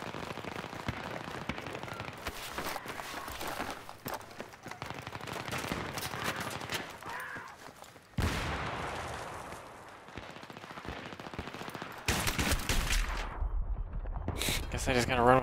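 Battlefield 3 multiplayer gunfire crackles in dense bursts, with rapid automatic shots and sharp single blasts over loud battle noise, and a voice talking over the shooting.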